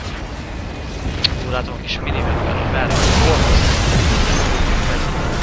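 Explosions rumble and burst in the Darksiders video game, with a sharp pop followed by a loud, sustained roar under someone speaking Hungarian.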